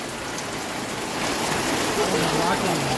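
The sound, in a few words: rain falling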